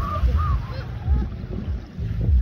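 Ducks call out on the water at a lakeside camp as a dog chases them, a few nasal honks over gusty wind noise and low rumbling, fairly close.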